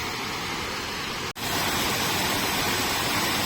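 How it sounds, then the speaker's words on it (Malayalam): Heavy water flow at Punnayar waterfall in Idukki makes a loud, steady broadband roar that cuts out for a split second before resuming just as strongly. "ഇതാണ് നമ്മളെ പുന്നേർ വാട്ടർഫാൾസ്"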